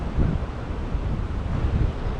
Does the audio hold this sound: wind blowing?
yes